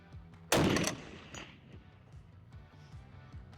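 A single very loud gunshot from a Lynx CQB .50 caliber rifle cracks sharply, then a rumbling echo fades away over the next second or so, with no talking.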